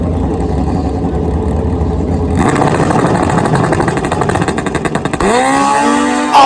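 Turbocharged, nitrous-fed Hayabusa street motorcycles of 1,634 cc and 1,397 cc drag racing in Australia, roaring loudly at full throttle with a steady engine blare, then a rising rev and a sharp shift of tone near the end.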